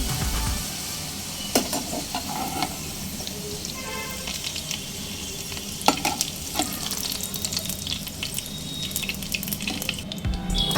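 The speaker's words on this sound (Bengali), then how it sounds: "আলু নেড়ে ছেড়ে হালকা লালচে রং ধরে আসা পর্যন্ত ভেজে নিয়েছি" Potatoes fry in hot oil with a loud, steady crackling sizzle, broken by occasional spatula scrapes and knocks as they are stirred.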